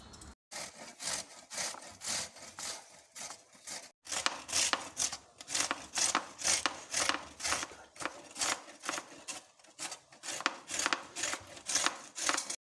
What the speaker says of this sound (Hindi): हमारी कद्दूकश हो गई हैं